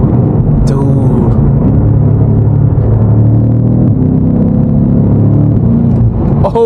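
A BMW F90 M5 Competition drives through New York City traffic, its engine and exhaust a deep, continuous rumble heard from inside the cabin, rising slightly at moments.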